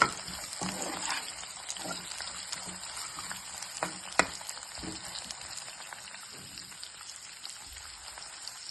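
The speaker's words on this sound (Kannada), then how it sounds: "ಎಲ್ಲವನ್ನು ನೀಟಾಗಿ ಫ್ರೈ ಮಾಡಬೇಕು. ಎಣ್ಣೆಯಲ್ಲಿ ಸ್ವಲ್ಪ ಹೊತ್ತು ಬಾಡಿಸ್ಕೊಳ್ಬೇಕು." Sliced onion frying in oil for mango rice, giving a soft, continuous crackling sizzle with occasional sharper pops, fairly faint and steady throughout.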